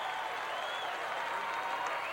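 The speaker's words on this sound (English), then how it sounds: "we hear some of the Trinity faithful beginning to stand and cheer" Trinity high school football fans rise and cheer, a steady wash of crowd applause and roar filling the stadium without a break.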